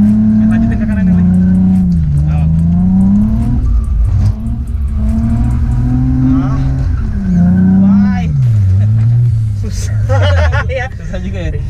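A drifting car's engine revs loudly and steadily, pitch rising and falling as the throttle is modulated through slides during a drift lesson, with people talking over it throughout.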